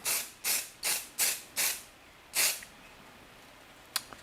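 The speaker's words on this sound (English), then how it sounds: "So I'm gonna go ahead and spray this." Vanishing spray, used to dull a part before 3D scanning with an Einstar2, hisses from an aerosol can in five quick close bursts, then one longer spray after a pause, and a faint click near the end.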